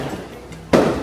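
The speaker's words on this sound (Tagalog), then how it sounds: "May pa-fireworks sa Akla." Fireworks go off at a beach resort in El Nido, a single sharp burst arriving abruptly after a quiet stretch of background ambience, moderately loud and somewhat distant.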